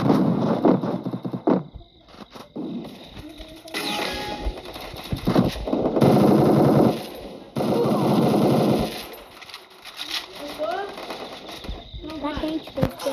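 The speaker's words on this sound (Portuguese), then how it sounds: "o cara tá atirando em mim ainda" Automatic gunfire from a Free Fire mobile game training match comes in dense bursts and bands of rapid shots, fairly loud and close, mixed with game effects, while someone talks over parts of it.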